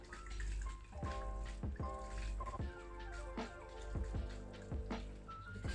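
Water from an aquarium hang-on-back filter trickles and splashes steadily, with small air bubbles popping and gurgling, close and continuous throughout.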